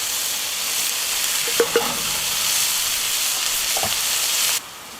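Onions and garlic searing in a Dutch oven for an oxtail dish give a steady, close sizzle and hiss throughout, broken by a few brief stirring scrapes before the sound cuts off near the end.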